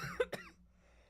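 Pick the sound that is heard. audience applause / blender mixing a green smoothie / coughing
coughing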